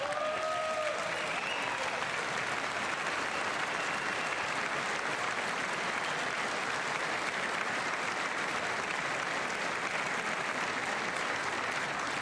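Sustained audience applause fills the chamber at a State of the Union address, a dense, even wash of clapping that stays steady for the whole stretch, with a brief tone near the start.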